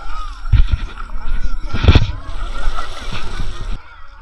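Water splashes and sloshes as people swim in cold water at a campsite around midday. Bursts of splashing come close by while people talk and exclaim over it.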